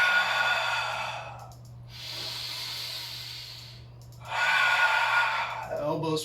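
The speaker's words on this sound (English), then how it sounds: "Let's do 5 breaths here" Slow, deep breaths drawn and released during a yoga backbend stretch, a long airy inhale and exhale repeating close by with a steady low hum underneath and no talking.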